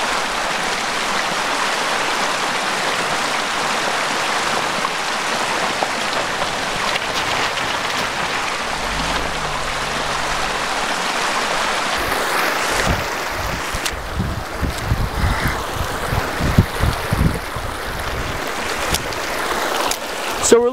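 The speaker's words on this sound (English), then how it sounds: "We have this water cascading down through this little mini canyon covered in flowers." Water cascades down through a small flower-covered canyon in a steady, rushing hiss, later joined by scattered clunks and rustling nearby.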